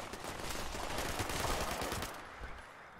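Rapid automatic gunfire in the post-apocalyptic shooter Fallout 76, a dense, loud continuous burst of shots that fades out near the end.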